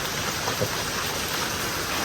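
Heavy rain falls in Thrissur, a loud, even roar of drops that holds constant throughout, with no one speaking.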